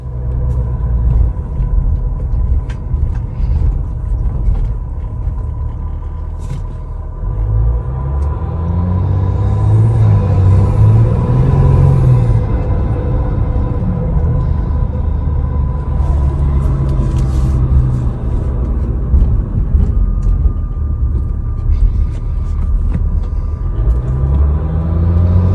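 Jeep EcoDiesel fitted with an AFE intake and turbo muffler delete, heard from inside the cabin while driving: a deep low rumble that swells as it accelerates, then settles into a steady drone.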